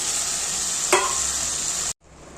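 Steady sizzling of ridge gourd frying in a pan, with one brief stirring scrape partway through; the sizzle cuts out abruptly near the end, then resumes more quietly.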